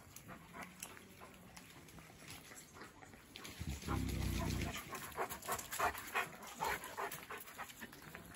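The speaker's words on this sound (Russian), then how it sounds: "Такие у нас, ребята, овчарки." East European Shepherd dog panting close by, a steady rapid breathing with a louder burst midway, alongside faint splashing of water and other dogs in a yard.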